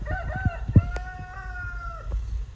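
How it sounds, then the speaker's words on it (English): A rooster in a backyard vegetable garden gives a single clear, fairly close crow that stretches out over a second above a low background rumble, with no talking. "the rooster's saying, hey, bring me a snack"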